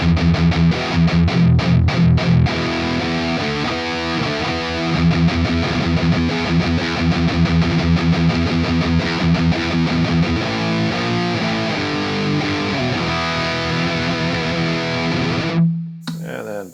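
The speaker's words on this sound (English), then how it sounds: "here's the bridge pickup" A BC Rich Warlock electric guitar played through its bridge pickup with heavy distortion, chugging riffs and sustained chords ringing loud and continuous for about fifteen seconds before cutting off abruptly.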